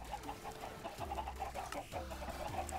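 Chickens clucking in the video game Minecraft, a steady run of repeated clucks with low throaty notes recurring every second or so, fairly close and continuous.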